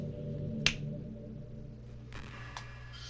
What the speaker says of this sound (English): It'll be as quick as snapping my fingers, just like Thanos.